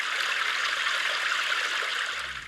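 Stream background sound played on an iPhone 14 Pro: steady, continuous rushing and trickling water, fairly loud and even throughout, alone with no talking, easing slightly at the very end.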